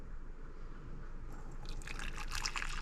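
Boiling water is poured into a container of freeze-dried food, making a faint trickling, splashing sound. The pour starts after a quiet moment and continues softly to the end.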